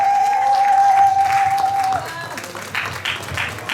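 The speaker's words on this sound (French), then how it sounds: "Est-ce qu'on peut les acclamer très fort?" Wedding guests at a religious ceremony in France applaud and cheer the group Koui, with steady clapping from a crowd in a hall. A sustained tone rings out early, then voices call out over the fading applause.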